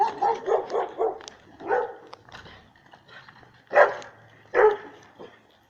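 Neighborhood dogs bark in irregular bursts, a quick run of yaps followed by a pause and then two sharper, louder barks, fairly close against a quiet outdoor background, with no voices.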